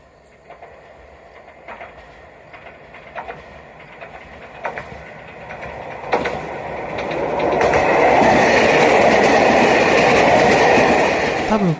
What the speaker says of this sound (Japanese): キハ201系回送列車が通過していきます。